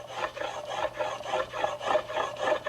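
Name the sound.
rubbing finish into wooden chaise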